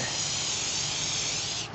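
Waterproofing spray hisses from an aerosol can onto a new backpack in one steady, close burst that cuts off sharply at the end.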